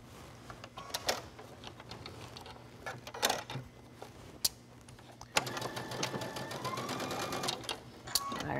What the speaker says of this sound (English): go back to the sewing machine